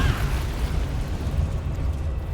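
A Divine Smite attack in Baldur's Gate 3 lands as a dense, rumbling burst, a brief bright flare at the start giving way to a sustained low roar that holds steady throughout.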